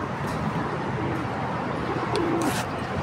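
A pet pigeon coos softly a couple of times against a steady background hiss, the low calls brief and fairly close.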